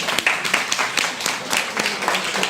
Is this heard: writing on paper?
no